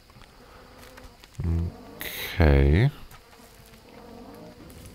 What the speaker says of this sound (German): Oh, die Bienen summen immer noch fleißig vor sich hin.